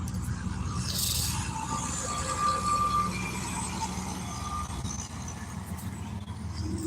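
A fuel tanker truck rumbles past at a distance on an upper track, a low steady drone that swells slightly and then eases, with faint background hiss.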